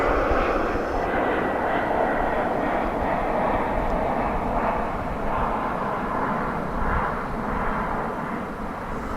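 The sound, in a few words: American Airlines Boeing 737-800 jet landing at DFW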